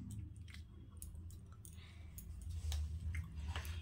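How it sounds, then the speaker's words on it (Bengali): Ghee being rubbed into idli stand moulds: soft, wet squishing and light tapping contacts, quiet and close, in short irregular bursts with no talking. "ঘিগুলো আমি এটার মধ্যে একটু লাগিয়ে নেব"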